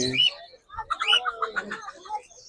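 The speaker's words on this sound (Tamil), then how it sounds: "என்னது இது ஏதோ விசில் அடிக்கிற சவுண்டு கேட்குது" A parrot at a bird market in Saudi Arabia, heard as a close, bright burst of whistles and chirps that repeat rapidly for a couple of seconds after a brief low sound.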